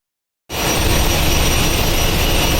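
Passenger launch Adventure-9 on an Eid special trip from Barisal to Dhaka, engine pulling away to overtake other launches. After half a second of silence, a loud, steady, broadband engine roar starts abruptly and holds without a break.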